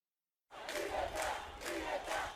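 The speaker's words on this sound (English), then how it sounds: "In front of police, the crowd yells, "Fatherland and life," a new opposition slogan" A crowd of protesters on the streets of Havana shouts a slogan in unison, a loud rhythmic chant of repeated phrases that rises and falls over a couple of seconds.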